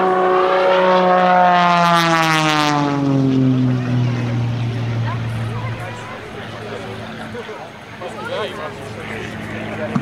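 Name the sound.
Extra 300 aerobatic airplane engine and propeller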